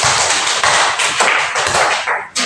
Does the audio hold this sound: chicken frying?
no